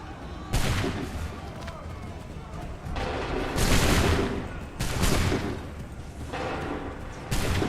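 Soldiers' musket volleys in Assassin's Creed III roll out as several broad, loud blasts of massed gunfire, each a long crackling rumble, with battle noise continuing between volleys.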